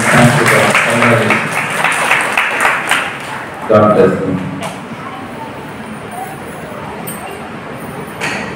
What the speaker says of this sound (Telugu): డాక్టరేట్ పొందుకున్న ఫాదర్ గారికి మరొక మారు మన హృదయపూర్వకంగా చప్పట్లతో అభినందిస్తాం